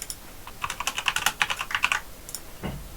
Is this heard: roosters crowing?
no